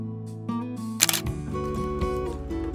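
A single-lens reflex camera shutter clicks once as a photo is taken with a 50mm f/1.8 lens, a close, crisp mechanical snap with no speech around it.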